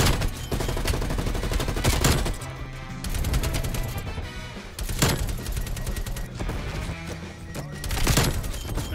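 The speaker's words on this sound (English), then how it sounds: "now you switch to an M60?" Sustained automatic fire from an M60 machine gun in a first-person shooter, loud dense bursts with brief pauses and booming impacts, layered with game effects over about nine seconds.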